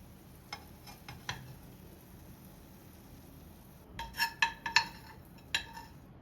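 Quiet room with a few light taps early on, then a cluster of metallic clanks and clinks as a lid is set onto a pan of fish tikka with the gas flame off.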